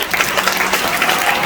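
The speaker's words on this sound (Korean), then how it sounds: "그리고 이제 김영석 교수님 나오실 때 하나님께 영광을 돌리고 큰 박수로서 교수님을 맞이하겠습니다." An audience applauds to welcome a professor at a Korean church gathering, a dense, steady burst of many hands clapping at full loudness throughout, with no talk over it.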